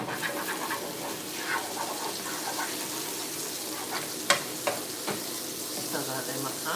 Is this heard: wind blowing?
no